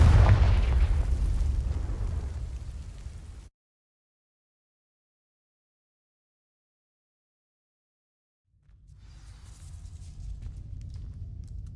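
A fire spell bursting to ignite dry vines in Hogwarts Legacy, a loud rumbling blast that fades into total silence, then a low crackling rumble of burning returns.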